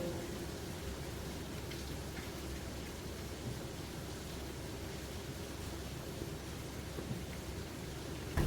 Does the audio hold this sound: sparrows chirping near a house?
no